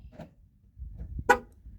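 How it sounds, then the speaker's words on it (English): A brief, quiet horn chirp from an older Ford truck confirming the keyless-entry lock sounds once near the end, preceded by faint clicks and low rumbling. "it honks your horn, just a small chirp, just to confirm lock by hitting it twice"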